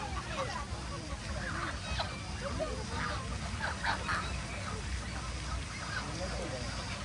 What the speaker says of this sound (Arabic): وز وز، مو بط، نوع من أنواع الوز.